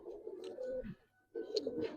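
Giribaz pigeons coo softly nearby in two short throaty bursts separated by a brief pause, heard alone and faint.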